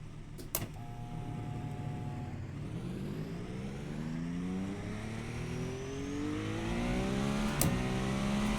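IMSA race car in a sim racing game lapping the combined Nürburgring layout, its turbocharged engine droning steadily and climbing in pitch through the gears, loud and close with no talk over it.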